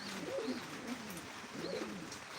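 Domestic pigeons coo softly in two low, rolling calls with a pause between them, heard at moderate distance over faint background hiss.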